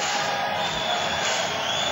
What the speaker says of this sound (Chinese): 现场的观众都开始给他鼓掌